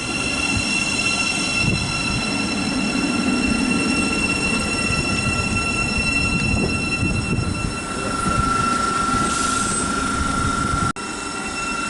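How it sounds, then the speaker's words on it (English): An East Midlands train from Sheffield to London St Pancras passes through St Albans City station, a loud, sustained rumble of wheels on rail with high squealing tones, close by and unbroken for the whole stretch. "passing through, which you will see in the clip right next to me, will be a East Midlands train service from Sheffield to London St Pancras"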